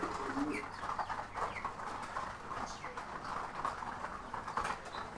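King Lahori and racer pigeons coo softly in repeated low, throaty calls, faint and close, with a voice talking in the background.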